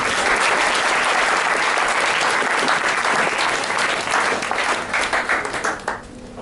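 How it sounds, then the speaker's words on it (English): A room full of wedding guests breaks into loud, sustained applause during the speeches, continuing steadily before thinning out and fading toward the end. "I'd like to give them a round of applause for it"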